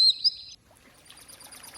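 Bright, high chirping bird song, heard as a few clear sharp notes at the start, followed by near silence with faint ambient noise.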